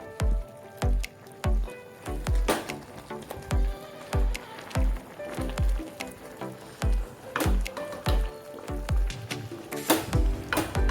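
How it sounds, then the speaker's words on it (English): Soft, wet squishing thuds repeat at a steady rhythm as cooked pav bhaji vegetables are mashed in a pan, each stroke a close, muffled squelch. "I will mash it up a little."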